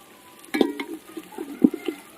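Fried onions tipped into a pot of cooking country-chicken pulao, giving a soft sizzle with two short clattering thumps as they land and are moved about.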